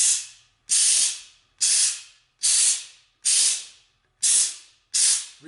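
Compressed air blasts out bolt holes while fitting an A & A Ultimate Sprag to a 727 transmission: seven loud, close hissing bursts, each about half a second long, separated by short silences in a steady rhythm.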